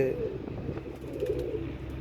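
Pigeon on a rooftop cooing in low, soft repeated calls against steady outdoor background, close by, with a voice talking faintly at times.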